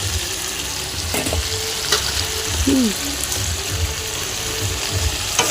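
Soybean chunks fry with spices in a pan for a vegetarian soybean curry, giving a steady broadband sizzle with a few sharp utensil clinks and scraping stirs, close and fairly loud throughout.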